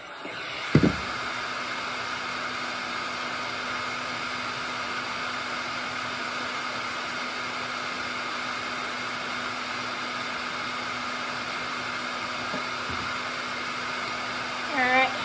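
Heat gun blowing hot air over PVC pipe to soften it, a loud, steady rushing roar with a faint hum, sustained throughout with brief knocks near the start and end.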